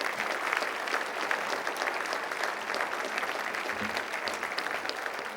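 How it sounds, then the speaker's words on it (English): An audience at Hawthorne's State of the City event gives the city commissioners a round of applause, a full, sustained burst of many people clapping at even strength with no voices rising above it. "Come on, let's give them a round of applause."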